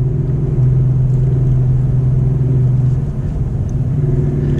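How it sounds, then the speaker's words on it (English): A 2021 Acura TLX Type S's turbocharged 3-liter six-cylinder engine idles and rumbles with a low, steady, throaty drone, close and loud, its pitch shifting slightly as it runs. "It's got a good guttural sound from this 3-liter turbocharged 6-cylinder engine."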